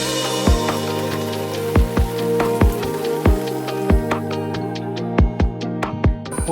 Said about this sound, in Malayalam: എപ്പോഴും മഴ പെയ്യുന്ന ഒരു ആംബിയൻസും